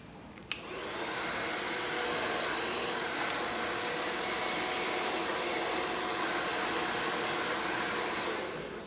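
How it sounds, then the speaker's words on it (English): A hair dryer set to medium heat switches on after a brief click and blows steadily with a loud, even roar for several seconds while hair is blow-dried. "I really like to blow dry on medium heat"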